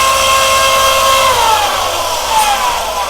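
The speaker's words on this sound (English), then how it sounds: "I can use the disc sander here." A Delta disc sander motor whines loudly and steadily, its pitch drifting slightly as it runs up, close and sustained.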